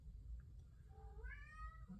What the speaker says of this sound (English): they start talking to each other, that usually ends up bad